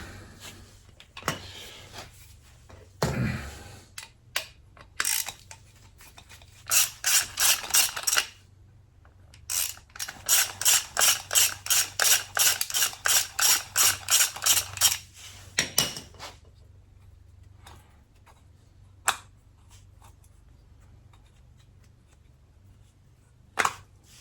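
Worn brake pads being pried out of a Harley-Davidson V-Rod caliper, giving a string of sharp metallic clicks and rattling taps, with bursts of rapid clinking in the middle, close and fairly loud, no talking.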